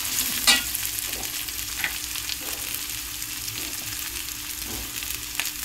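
Stuffed brinjals frying in a pan, a steady close sizzle with repeated stirring scrapes and soft clinks at a regular pace.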